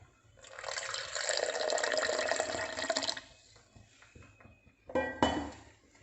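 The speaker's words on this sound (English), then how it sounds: "I'm going to add half of this powder, and I'm going to pour some water." Water is poured into a glass with powder in it, making a steady splashing fill for about three seconds. A quieter pause follows, then a short second burst of pouring or clinking.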